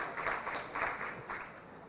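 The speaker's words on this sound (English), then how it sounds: "we need a louder applause for the lady coming up on the stage" Steady applause from an audience as the moderator of a brand panel discussion comes up on stage, moderately loud and continuous with slight swells throughout.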